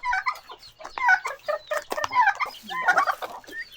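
Several turkeys on a small backyard farm gobble and cluck in quick overlapping bursts, close by and fairly loud, with a few chirpy calls mixed in.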